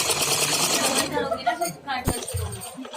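Sewing machine stitching a churidar pajama waistband belt onto cotton fabric, a steady mechanical whirr running close and fairly loud for the first second, then breaking into brief, uneven bursts with a sharp click near the end.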